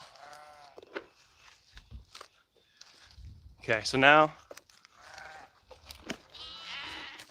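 Sheep on a small food-growing homestead bleat loudly around the middle, a couple of close calls between scattered footsteps and livestock shuffling, while a person talks intermittently nearby.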